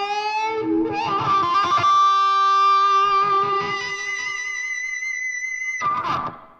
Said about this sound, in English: All right, now we have the wah happening on the bottom path.